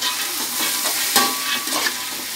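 Lima beans, rinsed in hot water, frying in oil with browned onion in a pan, a steady close sizzle broken by a few scraping stirs, with no voices.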